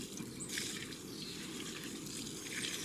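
Water poured from a bucket over the top of a dry backyard compost pile makes a soft, steady splashing hiss that runs unbroken for a few seconds, fairly quiet, with no talking.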